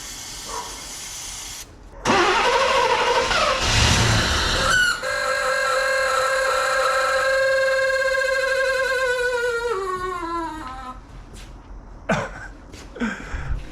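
A barn-find Camaro IROC-Z that has sat since the 1990s cranks roughly for a few seconds, then catches and runs with a steady whining hum that fades out, followed by a few sharp clicks.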